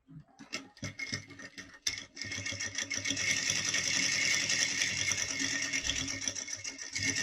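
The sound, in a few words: sewing machine stitching a seam on fabric lining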